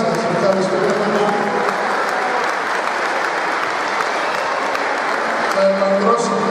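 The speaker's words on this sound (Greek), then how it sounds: "Το χειροκρότημά σας, ευχαριστούμε πολύ." A crowd at a pie-cutting celebration's award presentation breaks into a full, even burst of clapping that carries on steadily for several seconds, with faint voices underneath.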